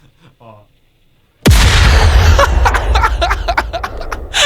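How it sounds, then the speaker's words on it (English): A sudden loud explosion sound effect bursts in and rumbles on with crackling debris, played during a podcast after a quiet stretch of soft talk. "you should use some of those like sound effects. You know, like the explosion sound effect."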